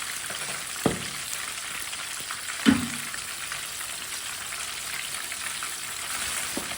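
Fish fries in oil in a pan with a continuous soft sizzle, close up, and two brief clinks or knocks breaking through the steady hiss.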